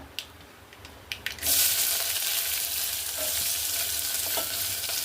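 Onion dropped into hot oil with cumin, mustard seeds and curry leaves erupts into a loud, continuous sizzle after a few light taps, frying steadily for pumpkin bhaji.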